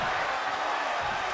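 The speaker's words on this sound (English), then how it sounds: "The sound of this crowd is deafening, and he's asking for more." A dense wrestling arena crowd at a live PWD event roars and cheers continuously at full, steady loudness.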